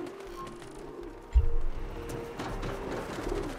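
Pigeons coo in the Mirror's Edge Catalyst video game, soft low calls set against a constant ambient game backdrop, with a louder thump partway through.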